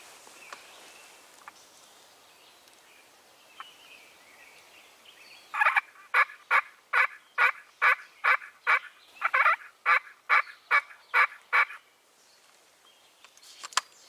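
A wild turkey gobbles during a spring hunt, a rapid rattling burst of loud, close gobbles repeated in quick succession after a quiet outdoor stretch, with no talk.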